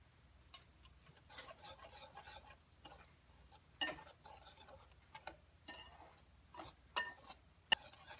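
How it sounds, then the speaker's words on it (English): Dry muffin ingredients, including baking soda, salt and cinnamon, being whisked together in a bowl: quiet, irregular scraping and ticking strokes against the bowl, with brief pauses between bursts of stirring. "And now I'm just going to whisk them together."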